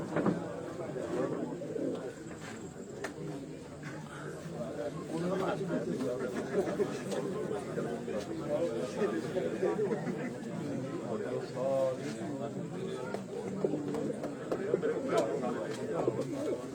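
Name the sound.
racing pigeons cooing on a rooftop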